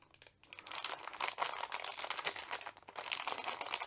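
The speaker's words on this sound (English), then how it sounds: "So it's in a resealable bag, so we'll take it out." A plastic resealable bag crinkles and rustles up close during an unboxing, a soft continuous crackling with uneven bursts and no talk.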